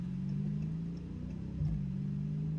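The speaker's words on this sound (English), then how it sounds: "Oh yeah, you can hear the quick shifts." A 2023 Dodge Challenger heard from inside the cabin, a steady low exhaust drone with a brief dip and surge around a quick gear shift, moderately loud and continuous.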